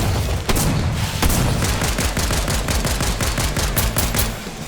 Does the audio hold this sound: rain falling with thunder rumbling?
no